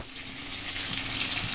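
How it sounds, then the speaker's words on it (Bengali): Three pieces of salted, turmeric-rubbed fish, one head and two tail pieces, fry in a pan with a steady bright sizzle and spatter, close and constant, with no voices. "এই যে 3 পিস মাছ আমি ভাজা করতে বসিয়ে দিয়েছি।"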